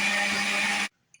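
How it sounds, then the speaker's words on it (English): A blender blending tomatoes with green chilies whirs loudly and steadily for under a second, then cuts off abruptly into near silence. "We're going to blend these up in the blender."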